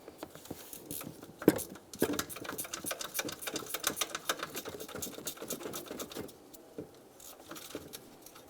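A ratchet wrench clicks in quick, uneven bursts while loosening a 10mm bracket nut beside the power steering reservoir on a 1998-2002 Lincoln Navigator engine, with a sharp knock near the start and close, moderately quiet mechanical rattling throughout.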